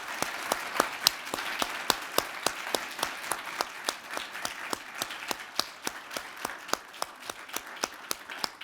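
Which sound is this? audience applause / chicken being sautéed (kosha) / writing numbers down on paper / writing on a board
audience applause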